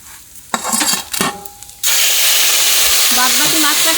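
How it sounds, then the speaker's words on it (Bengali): Soft pond-fresh rohu fish fries crisp in hot oil, starting as a loud, steady, close sizzle that fills the rest of the clip after a few sharp utensil clatters. "নরম মাছ একটু তাই কড়া করে ভাজলাম আমি"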